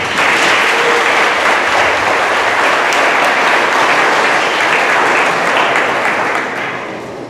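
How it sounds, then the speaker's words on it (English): A crowd gives a big round of applause for a group of young players at a team event, loud sustained clapping that fills the whole stretch before tapering off near the end. "Please give them another big round of applause."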